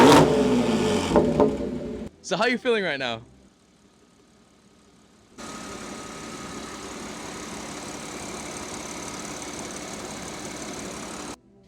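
A supercharged Audi S5 engine, running on bad gas while burning off residue, settles into a steady, even idle drone after a voice speaks briefly near the start and a short quiet gap.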